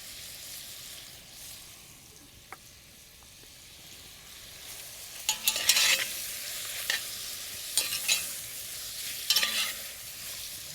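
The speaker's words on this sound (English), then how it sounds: "Give it a nice stir" Lamb stew with bay leaves and fresh thyme being stirred in a pot, a low steady sizzle with a few louder scraping bursts of the spoon midway and near the end, no talking.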